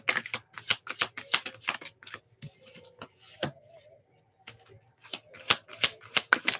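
Tarot cards are shuffled and drawn during a reading, making bursts of close, papery riffling and slapping that stop briefly and then resume, with no voices.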